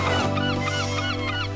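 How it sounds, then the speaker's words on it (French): Seagulls crying in a rapid run of repeated squawking calls, fairly loud, layered over a steady low mechanical hum, with no talking. "J'entends les mouettes."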